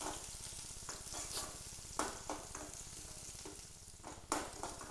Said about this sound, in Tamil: நல்ல வெங்காயம் நல்லா ஃப்ரை ஆகுது.